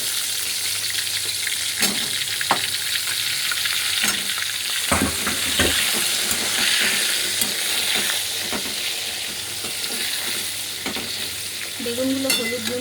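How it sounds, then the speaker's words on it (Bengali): Eggplant pieces coated in turmeric and salt fry in hot oil with a loud, continuous sizzle and crackle, broken by occasional sharp clicks of stirring and no voices. "বেগুনগুলো হলুদ নুন দিয়ে ভাজবো"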